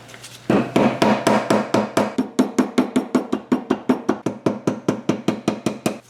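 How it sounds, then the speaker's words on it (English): Steady metal hammer blows work a stuck oil pan loose from a BMW E32 735iL under repair. Some twenty sharp, close strikes ring out in an even rhythm with no talking. "So I just need to keep hammering away, and it will eventually come off."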